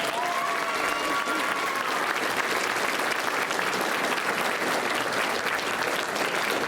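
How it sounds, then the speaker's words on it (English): A school concert audience in a hall at a high school spring band concert applauds a drum set solo with steady, full clapping that holds evenly throughout, with a brief whistle or cheer early on. "Let's give him a round of applause."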